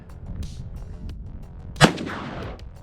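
.500 Magnum revolver fires a single loud, sharp shot into bulletproof glass outdoors, a sudden crack followed by a short decaying rumble and faint debris.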